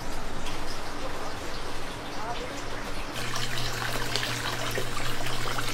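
Water runs steadily in an outdoor onsen bath on a balcony overlooking a river, a continuous trickling wash with a low hum joining partway through.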